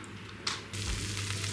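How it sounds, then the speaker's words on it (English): A vegetable dish without meat sizzles after 20 minutes in a camper van oven, giving a steady broadband hiss that holds close and fairly quiet through the short moment. "Listen to that sizzle."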